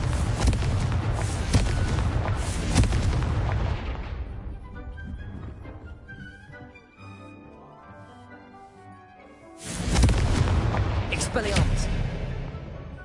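Blasts from the Confringo fire spell in Hogwarts Legacy, dense booming bursts and crackles that ease off midway, then a second heavy burst of explosions near the end.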